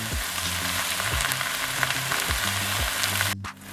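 Salt, oregano, thyme and rosemary are mixed into sizzling shepherd's pie filling, with a constant loud fry hiss and repeated low spoon scrapes in a slow rhythm, close up, ending in a brief sudden drop.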